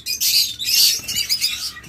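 Pet birds sold in pairs call from a cage in bursts of high, scratchy chirps and squawks lasting about two seconds, close and fairly loud, with a brief wing flutter and no talking.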